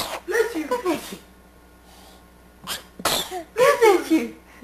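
Two sharp sneezes from a person at home, the first around the start and a second, louder one a few seconds later, with short breaths and a quiet gap between them.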